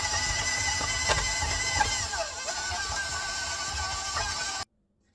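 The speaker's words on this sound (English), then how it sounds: "You want to stop, turn off your mixer, and scrape down your bowl and continue beating until this is really fluffy." Electric stand mixer beating room-temperature butter and sugar, a steady whirring hum with rhythmic mechanical ticks, moderately quiet, stopping abruptly at the end.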